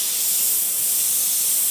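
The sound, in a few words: airbrush spraying paint on MDF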